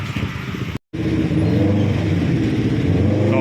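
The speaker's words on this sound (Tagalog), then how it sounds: "So yan, ganyan po ang traffic dito." Steady road traffic in Balagtas rumbles loudly and continuously, with car engines revving and droning close by after a brief gap near the start.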